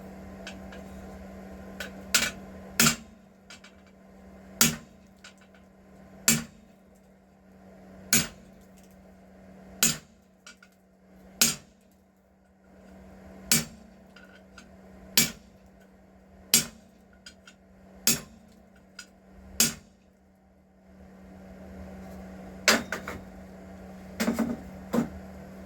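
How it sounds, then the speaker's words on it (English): Hammer blows on hot steel being forged into a pineapple twist handle spatula, a dozen or so sharp ringing strikes at a steady working rhythm with short pauses, close and clear over a low steady hum. "But what might speed it up is using a bigger hammer."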